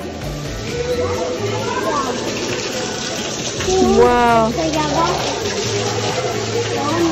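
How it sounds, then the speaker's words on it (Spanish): Water flows steadily through the jungle with a constant rushing hiss, while people talk and exclaim nearby over it and a bird chirps briefly. "Mira toda el agua"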